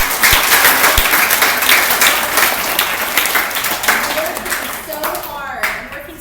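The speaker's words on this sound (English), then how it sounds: "So give yourselves a round of applause just for" Fifth grade poetry reciters at a school recital get a loud, dense round of applause from the audience, filling the space. It tapers near the end as a voice begins talking.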